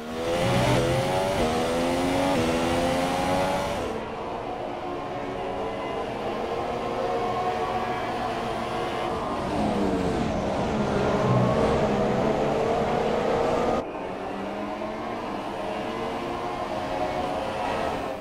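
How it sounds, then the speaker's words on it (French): Onboard engine of a Force India F1 car in the video game F1 2017, its engine near failure, whining through rising and falling revs and gear shifts, loud and close with no talk. "Retour en caméra embarquée avec la Force India dont regardez le moteur est tout simplement en bout de course"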